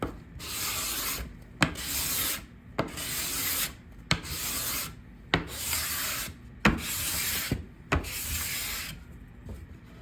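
Hand scraper shaving an eastern red cedar butcher block top, a series of long rasping strokes about every second, each starting with a sharp bite and then a broad scratchy hiss, close and steady with no talking.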